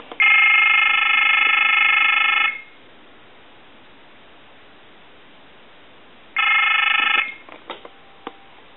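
An AT&T 5500 cordless telephone under repair gives a loud electronic ring tone lasting a couple of seconds, then a quiet pause, then a second burst of ring tone followed by a few short dialing beeps.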